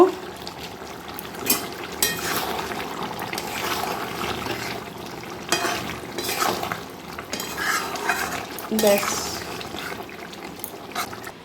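A spoon stirs and scrapes through chicken frying in a pan with garam masala, giving steady close metallic clinks and scraping in an irregular rhythm over a continuous sizzle.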